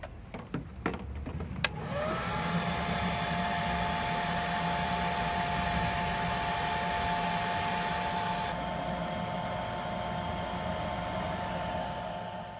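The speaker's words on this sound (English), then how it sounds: "first I'm just going to try setting up a hair dryer to blow some hot air" A hair dryer blows hot air into a moisture-fogged light fixture on a 2007 Toyota, starting after a few clicks and then running as a loud, steady whoosh with a constant whine.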